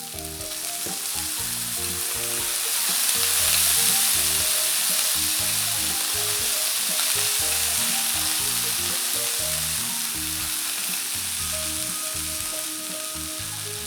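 Balsamic vinegar hits a hot pan of blistering cherry tomatoes, setting off a loud, steady sizzle that swells briefly near the start and holds at an even hiss, with no talk.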